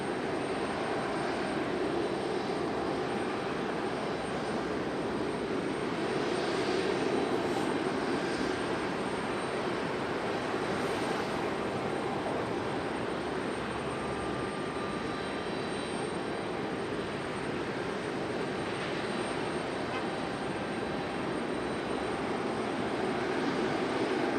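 Jet engines of a Delta Boeing 737 airliner at Raleigh Durham airport roar in a loud, steady, broadband wash that holds for the whole stretch without a break.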